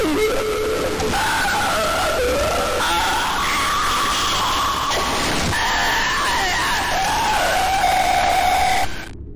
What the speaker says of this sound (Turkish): Dog Day'in çığlığı diğer çığlıklara göre daha uzun sürüyor